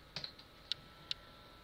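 A few light, crisp clicks from a computer keyboard as a short username is typed, four or five quiet keystrokes spaced irregularly over near-silence.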